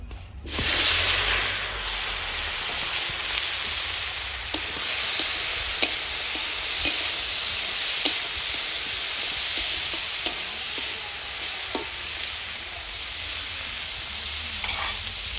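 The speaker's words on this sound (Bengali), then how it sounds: "আমার চিংড়ি মাছ ভাজা হয়ে গেছে" Shrimp coated in salt and turmeric fry in oil in a wok, with a loud, continuous close-up sizzle and hiss and occasional sharp crackles and stirring clicks throughout.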